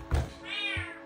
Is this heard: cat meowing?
yes